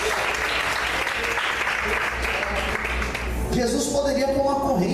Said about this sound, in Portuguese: Você pode aplaudir essa vontade do Senhor nessa noite.